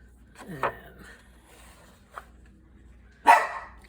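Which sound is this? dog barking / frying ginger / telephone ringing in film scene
dog barking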